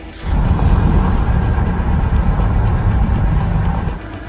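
A car drives along a decent road through pine forest near Izium in wartime Ukraine, heard from inside as a loud, continuous low rumble of engine and tyre noise.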